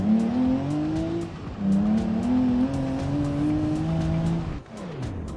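A car driven flat out toward a brick wall in the BeamNG driving game, its engine holding a loud, steady drone with rising and shifting pitch. A brief dip comes near the end before the engine picks up again.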